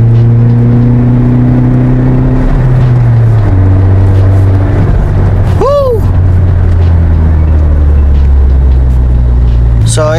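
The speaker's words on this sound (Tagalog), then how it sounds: "So, itong pag-install natin guys ng chambered muffler, muffler to muffler talaga siya mga boss." Car exhaust through a Greddy chambered muffler, a loud, close engine drone that rises and falls steadily through several revs, with a brief whine partway through.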